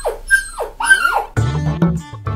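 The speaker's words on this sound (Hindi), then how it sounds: "कोई असली कुत्ता होगा बाहर का।" A dog whimpers in high, drawn-out whines, then breaks into a few close, loud barks and muffled yips over a short stretch, heard in a Hindi devotional TV serial with no speech over it.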